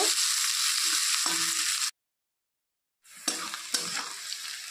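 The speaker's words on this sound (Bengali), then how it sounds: "পেঁয়াজটাকে একটু ব্রাউন করে নেব" Onion sizzles and gets stirred in a pan while browning for an egg curry, a loud close frying hiss with spatula scrapes, broken by about a second of total silence before resuming with knocks.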